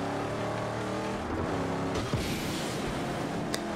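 An armored car in Mad Max drives hard, engine droning with rising and falling harmonic tones, shifting as it accelerates, with a brief tire squeal and clank near the end; no voices.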